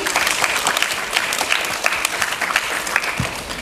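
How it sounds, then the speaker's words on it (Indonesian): Applause from an audience at a campus visit event by an Islamic high school to a university, a dense steady wash of many hands clapping throughout, fairly loud and even with no talk. "Oke, beri tepuk tangan sekali lagi."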